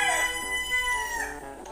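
A rooster crows once nearby, a drawn-out bright call, with faint chicken sounds around it.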